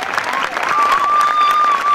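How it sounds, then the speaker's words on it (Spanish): Loud, close applause and crowd noise for students at a school flag ceremony, with a sustained high whistle cutting through the clapping. "Fuerte el aplauso para cada uno de nuestros estudiantes de General Las Heras."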